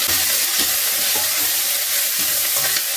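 Steady, loud sizzling and crackling of chopped tender banana leaves frying in hot oil, with intermittent stirring clatter.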